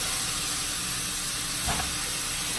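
Ground beef, still a little frozen, fries in a pan with a steady, dense sizzle and hiss that holds at an even level, close and alone.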